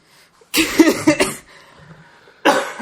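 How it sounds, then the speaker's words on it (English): A harsh, close-up coughing fit of several rapid bursts right against the microphone, a brief quiet pause, then another loud cough starts. "You just coughed right into that microphone."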